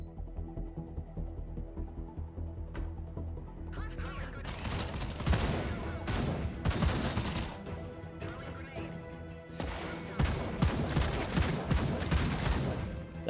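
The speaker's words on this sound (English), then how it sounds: "Go in. And start shooting, yeah?" Gunfire in the shooter game No Plan B breaks out as dense, loud bursts of rapid shots in repeated volleys over a steady tonal game background.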